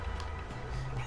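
Chicken clucking in the video game Guacamelee, a short burst of fowl-like calls over steady game background sound.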